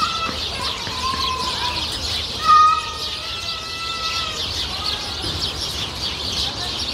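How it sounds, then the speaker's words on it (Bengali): Birds at a zoo in Portugal give repeated chirps and short whistled calls over a steady background hum, with one louder, sharper call near the middle. "এই সাইডে আমাদের চিরাচরিত পরিচিত যে পাখিগুলা"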